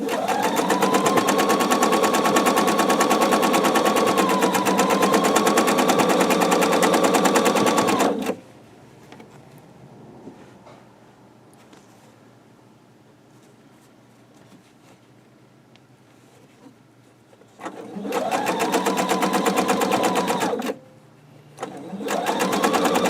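A sewing machine stitching a log cabin quilt block runs in a fast, loud mechanical rattle for about eight seconds, falls quiet, then rattles again briefly near the end; no talk.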